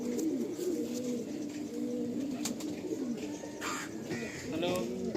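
Breeder Madrasi pigeons cooing up close, a steady low rolling coo repeating throughout, with voices talking over it and a few sharp knocks.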